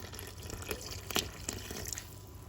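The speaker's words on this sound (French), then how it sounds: "Et là, on rajoute notre eau avec notre levure chimique." Water with baking powder poured into a bowl of batbout dough mixture in a kitchen; a soft, steady trickling stream with a few small splashes, fairly quiet and without speech.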